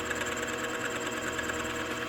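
A small boring head cuts an air compressor connecting rod on a machine, giving a steady, faint whirring hum with a light, even chatter, and nobody talks.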